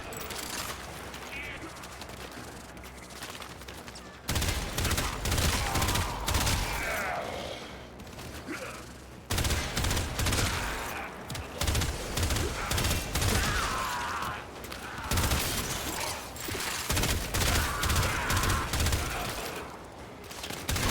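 Rifle gunfire in the Warframe video game, dense sustained bursts of rapid shots in several long volleys with brief pauses between, loud and close.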